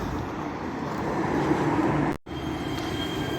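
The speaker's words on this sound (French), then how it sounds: "ça c'est le métro, la ligne E" A Los Angeles metro train on the E line rumbles past close by as a loud, steady roar of wheels on track. The sound cuts out abruptly for a moment partway through, then the rolling noise resumes.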